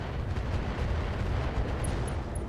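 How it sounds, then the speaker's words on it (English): An SRM ammo explosion in the RogueTech mech combat game: a sustained, dense roar of blasts and rumbling detonations fills the whole stretch at steady loudness, with no voices over it. "And an SRM ammo explosion there"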